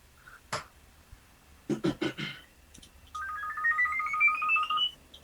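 Telephone keypad tones are punched in a short burst, followed by a rising electronic ring tone that sweeps upward for about two seconds, with a brief cough-like thump early on.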